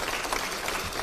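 Brief, dense clapping from many hands at a party caucus meeting, a short, even burst of applause with no clear talk over it.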